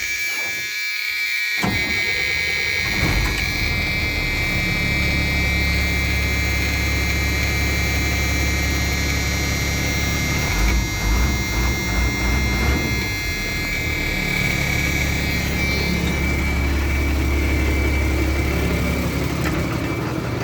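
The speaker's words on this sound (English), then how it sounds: "I thought I'd do a cold start." A 2002 Blue Bird Freightliner FS-65 bus with a CAT 3126 diesel cranks briefly and catches on a cold start, then settles into a steady, loud idle with a buzzing, uneven clatter that shifts slightly in tone, close by and without voices.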